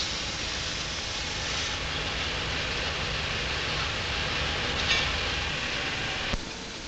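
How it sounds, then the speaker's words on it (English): A new ČKD CME3 diesel locomotive runs a load test against resistance during its first trial hours. It gives a steady, loud, even roar with little change throughout and no voices. "The first trial hours are spent running the new locomotive against resistance."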